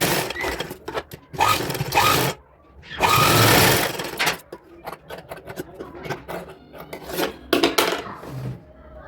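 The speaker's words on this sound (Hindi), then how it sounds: "अब हम इसमें प्रेस सिलाई लगा लेंगे।" A sewing machine runs a press stitch along a dupatta for a little girl's designer outfit, in loud close bursts of whirring separated by short pauses and fabric handling.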